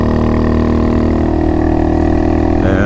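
Honda Monkey motorcycle with a new intake, its engine running steadily with a loud, continuous mid-pitched drone and a slight rise in revs near the end, close by.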